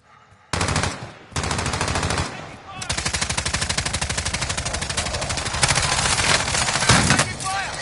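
Sustained automatic gunfire in a video game, rapid dense bursts starting abruptly and continuing loud and steady nearly throughout, with brief gaps and a few heavier shots layered in.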